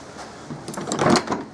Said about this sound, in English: we'll just try the door and see what happens